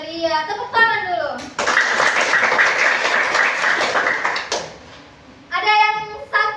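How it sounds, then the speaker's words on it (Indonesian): A group of children in a classroom clap their hands together in a brisk burst of a few seconds, loud and close, with a teacher's voice speaking before and after. "Tepuk tangan dulu."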